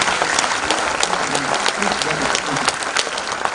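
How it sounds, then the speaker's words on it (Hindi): Audience standing and applauding loudly at a health lecture in India, a sustained dense burst of clapping throughout with some crowd murmur beneath. "अपने हाथों को गर्म कीजिए, जोर से तालियां बजाइए, लगातार खड़े होकर के तालियां बजाइए।"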